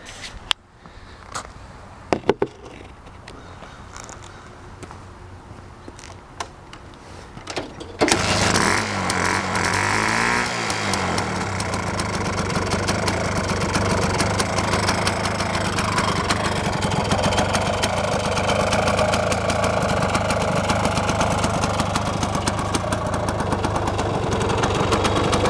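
A 1966 Sears Allstate Twingle 175, a Puch-built vintage motorcycle with a new carburetor, is quiet at first with small clicks. Its engine then fires up and keeps running loud and steady at idle, close by.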